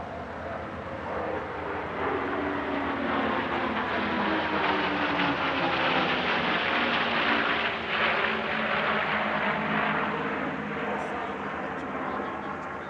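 A P-51 Mustang warbird drones overhead at an air show near Scone, its engine a continuous broad roar that swells slightly and holds.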